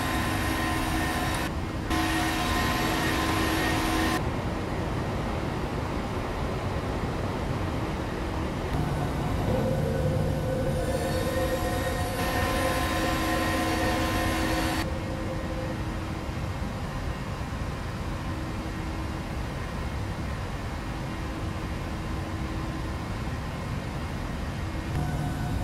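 Airliner engines roar through takeoff roll and climb out of Amsterdam Schiphol runway 36 left in Flight Simulator 2017: a steady, dense broadband rumble with shifting whining tones that holds loud for the whole stretch, with no voices over it.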